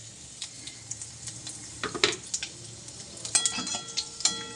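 Tempering spices hit hot oil for khichuri, producing quiet, scattered crackles and short sizzling bursts with small ticking pops between them.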